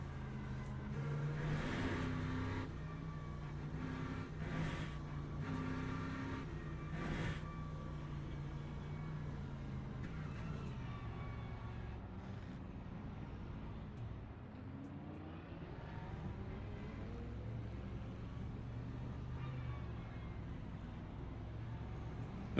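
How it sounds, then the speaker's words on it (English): A Corvette race car engine in the sim racing game Le Mans Ultimate drones steadily throughout, its pitch rising and falling with gear changes and throttle, with no one talking. "It's a Corvette fast starting."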